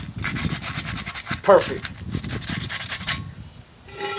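Coarse 100-grit sandpaper rubs over a car wheel rim in steady, repeated scratchy strokes, fairly close, with a brief spoken word partway through.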